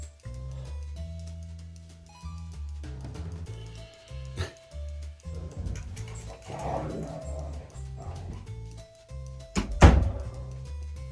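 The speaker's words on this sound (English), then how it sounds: "If you hear dogs fighting in the background" Dogs fighting in the background indoors, with scattered growls, yelps and scuffling bursts mixed with thumps and knocks, rising to a sharp loud burst near the end.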